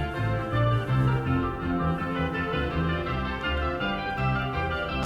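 An excerpt plays as 16-bit original audio. Dense synthesized baroque counterpoint runs steadily at a constant level, with overlapping melodic lines and no voices.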